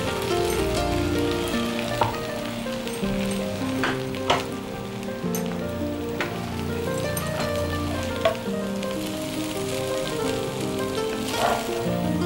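Food sizzles steadily in a hot pan, a dense continuous crackle with scattered sharper pops and occasional light knocks, fairly close and with no talking.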